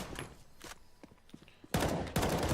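Pistol fire in a competitive CS:GO match on the map Train: scattered single shots and light footsteps, then a loud, rapid burst of gunfire fills the last second of play.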